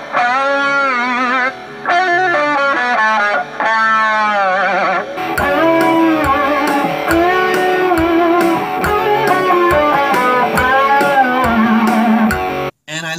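A recorded song riff with a newly recorded melody layered over it; a sustained, effected melodic line alone at first, then fuller band playback with steady rhythmic hits from about five seconds, loud throughout with no talk.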